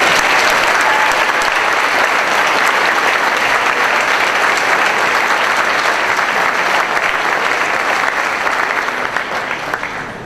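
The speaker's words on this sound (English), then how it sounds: "Please accept a round of applause." An audience at a high school athletics awards ceremony applauds honourees in a sustained, loud wash of clapping that carries on for about ten seconds before easing slightly at the end.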